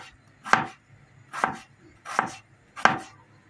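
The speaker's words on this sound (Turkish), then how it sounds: "Şimdi dolma harcım için soğanlarımı ve sarımsaklarımı ince ince doğrayarak harcımı hazırlamaya başlıyorum." Onions and garlic being finely chopped on a board for a lentil-stuffed pepper filling: four crisp, evenly spaced knife strokes about a second apart, close and clear with no voices.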